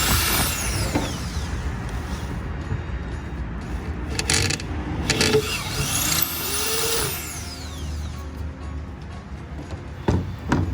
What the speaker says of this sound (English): I will use a smaller drill bit to start the holes, the pilot holes